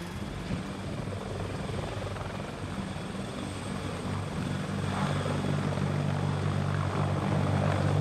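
A large US military helicopter flies nearby, its continuous loud rotor and turbine roar filling the air and swelling slightly toward the end.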